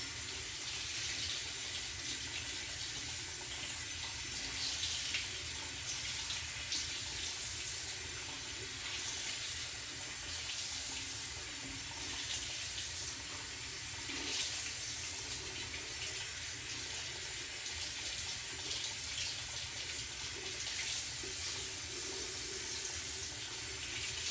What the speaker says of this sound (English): I'm just rinsing all the soap out of it.